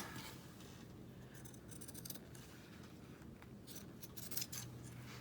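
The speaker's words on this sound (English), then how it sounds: "cut the corners off" Scissors snipping the corners off a handmade fabric journal cover made with felt, a steady close run of soft crisp cuts and rustling over a faint background hiss, with a few sharper snips near the end.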